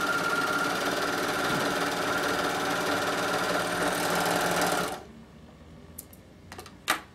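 A Bernina overlocker runs continuously, stitching fabric with a fast, steady mechanical whirr for about five seconds before stopping abruptly, followed by a few faint clicks and handling taps.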